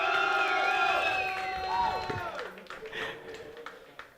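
A crowd cheers and claps for a Protoss player being introduced at a StarCraft esports nationals finals, a loud swell of shouts and applause that fades into scattered claps and voices.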